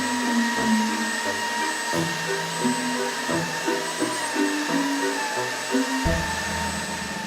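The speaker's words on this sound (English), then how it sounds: "The most important part about fixing a vacuum cleaner is having to test the vacuum cleaner to see if it runs." A household vacuum cleaner runs steadily and loudly throughout, tested by sucking up glitter, its motor whine continuous with shifting low-pitched tones as the nozzle moves.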